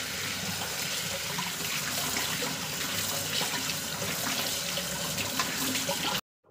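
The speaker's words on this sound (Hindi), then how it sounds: "अब चलते हुए पानी से इसको धो लेते हैं अच्छे से रगड़ के।" Running tap water pours continuously into a sink while taro roots (arbi) are scrubbed clean, a close, steady hissing splash that cuts off abruptly near the end.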